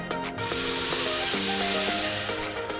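Ground cashew, melon seed, tomato and poppy seed paste hits a hot pan for veg paneer, giving a loud, steady broadband sizzle that holds for about three seconds over faint tonal background notes.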